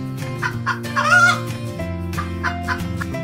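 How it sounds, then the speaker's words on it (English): A hen clucks in short, repeated calls with one louder squawk near the middle, set over a steady musical backing of a nursery rhyme track. "H for hen."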